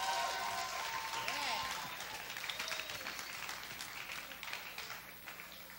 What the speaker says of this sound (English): I think 11 people deserve a big, loud round of applause